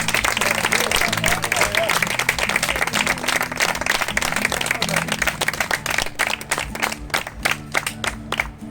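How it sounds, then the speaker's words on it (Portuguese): A church congregation applauds loudly and energetically in praise of God, dense rapid clapping with some cheering that thins into scattered individual claps toward the end. "Vamos aplaudir a Ele"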